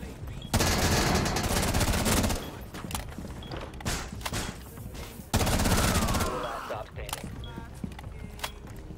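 Video game shootout with bursts of rapid automatic gunfire, two loud sustained volleys separated by quieter scattered shots and thuds, close and dense with no voices audible.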